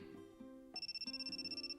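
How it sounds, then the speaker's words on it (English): Mobile phone ringtone plays a rapid pulsing electronic trill over an ongoing melodic tone, steady and moderately loud with no talking. "Asuko, Asuko, your phone's ringing"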